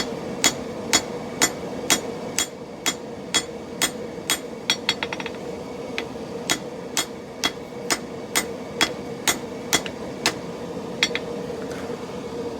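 Steady hammer blows ring on an anvil as a ball peen hammer head is forged into a spike tomahawk blade, edges worked in; around two dozen sharp metallic strikes at an even pace, some in quick doubles, over a low background hum.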